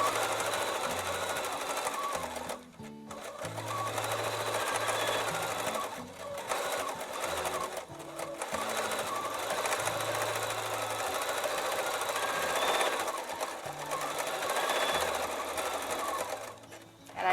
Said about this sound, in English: On mode number 1, the machine is going to be in constant motion, so the needle is going to go up and down